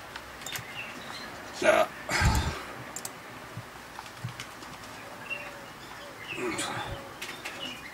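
Racing pigeons in a loft during a competition flight, with a short burst of wing flapping near the start and soft cooing over a steady murmur of background noise.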